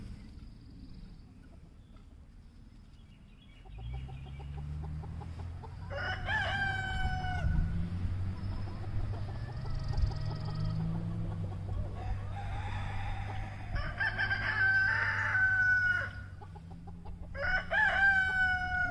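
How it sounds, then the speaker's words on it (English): Ayam Cemani roosters crow several times in a row, close and loud, over a low rumbling background. "Hanging out with the roosters."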